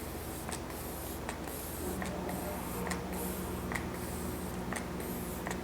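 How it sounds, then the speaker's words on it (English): An Olay energizing face mist sprays in several short hissing bursts, spaced roughly a second apart, close to the microphone over a steady background hum. "So now I'm going to go ahead and take this Olay Mist. This is the energizing one"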